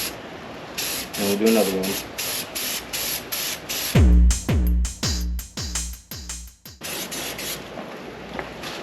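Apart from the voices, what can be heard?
spray painting a 1982 Honda Goldwing cafe racer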